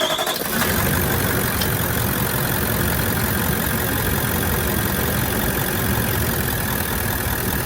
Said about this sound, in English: you can hear the engines running